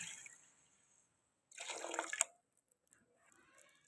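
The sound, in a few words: water poured into cooking pot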